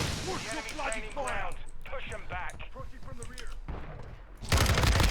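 A voice talks over sporadic game gunfire from the FSS Hurricane in a video game, ending in a loud, dense burst of rapid shots.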